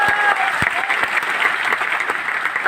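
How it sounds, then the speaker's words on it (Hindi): A Teachers' Day audience at a study centre in Patna breaks into applause, a dense, even wash of many hands clapping loudly and continuously throughout. "एक बार तालियां बजा के बता दीजिए"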